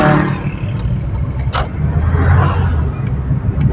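A Kia Picanto with a gear-shifting fault pulls away in first gear on a highway, its engine note rising loudly and close under steady road and wind noise.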